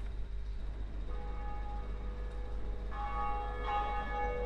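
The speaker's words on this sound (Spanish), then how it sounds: "Tenías que tocar dos campanas. Esta es la primera." A bell rings in the dark fantasy video game Dark Souls, sustained tonal strikes that swell and overlap above a low steady rumble, with a second brighter peal entering near the end.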